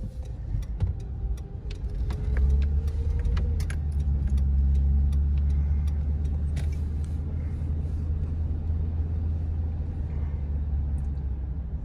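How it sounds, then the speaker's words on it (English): Street traffic in New York City heard from inside a moving car: a steady low engine and road rumble with passing vehicles and light rattles, continuous throughout, no talking. "there's a lot more traffic and stuff going on up here"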